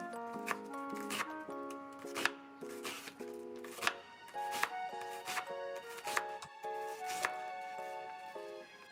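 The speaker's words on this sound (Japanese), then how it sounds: "ハンバーグの食感を良くするためにもう少し細かくみじん切りにしていきます。" A knife finely minces onion on a board for hamburger patties, with quick, regular chopping taps set against soft background music.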